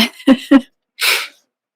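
A single sneeze, close and fairly loud, following a few short breathy vocal sounds, then silence.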